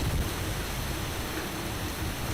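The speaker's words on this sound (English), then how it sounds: "I didn't hear you in the beginning because of the rain" Steady, dense rain hisses at an outdoor scene near a high school, filling the whole stretch as an even wash of noise with a low rumble beneath and no talk.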